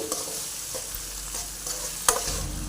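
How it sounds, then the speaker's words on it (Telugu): Spinach and tomato paste frying in a pan, a continuous close sizzle with soft stirring scrapes and one sharper clack of the utensil near the end, no talking. "కొద్ది పచ్చివాసన పోయేంత వరకు ఫ్రై చేసుకోవాలి"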